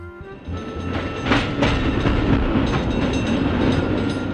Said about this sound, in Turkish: Bu bir tramvay. Tramvay.